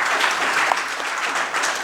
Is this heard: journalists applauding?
yes